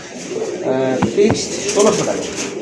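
A pair of pigeons coos in short, soft bursts close by, the rounded calls repeating over a steady background murmur while people talk nearby.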